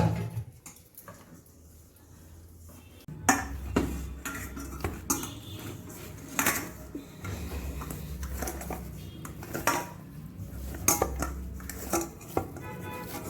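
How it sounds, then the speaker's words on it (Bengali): Dough being mixed and kneaded by hand in a bowl, with small amounts of plain water added, gives irregular close clinks and scrapes against the bowl, soft squelching handling, and a few sharper knocks, with no talk. "এবার সামান্য সামান্য জল দিয়ে, নর্মাল জল দিয়ে আমি ময়ামটা মাখছি।"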